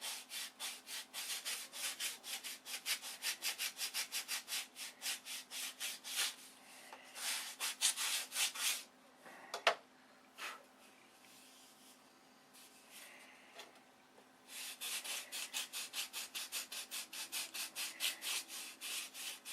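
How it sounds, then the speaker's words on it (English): Rapid back-and-forth scraping of sandpaper on a stack of wood pieces, in long rhythmic bursts with a pause in the middle before the strokes resume. "this is what's known as stack sanding."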